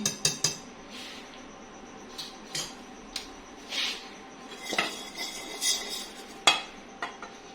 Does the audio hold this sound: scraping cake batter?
yes